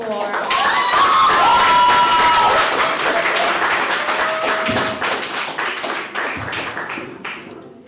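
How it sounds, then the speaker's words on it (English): Applause from a debate audience at an inter-schools water-week debate, a dense sustained wash of clapping filling the space near and loud, with some voices mixed in, then thinning toward the end. "Another round of applause"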